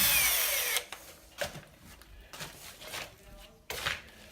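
A power drill backs a screw out of a bathroom plasterboard wall. A whirring burst opens the clip, then comes a string of short, close knocks and scrapes with quiet gaps between them.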